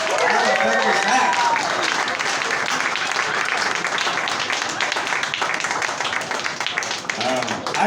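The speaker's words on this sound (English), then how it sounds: "Give a big hand of applause, pretty please, for Christina Murray and Todd DeWitt." A bar crowd at Bar Brooklyn in Stockholm applauds loudly for the musicians, dense sustained clapping filling the room from start to finish, with a few voices calling out over it.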